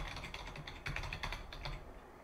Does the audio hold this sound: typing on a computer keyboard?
yes